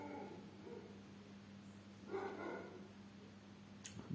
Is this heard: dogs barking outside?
yes